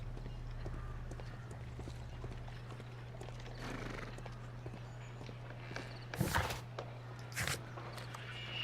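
Hooves clip-clop at a steady walking pace over a low electrical hum, with a couple of louder rushing bursts near the end, from the video game Sherlock Holmes: The Devil's Daughter.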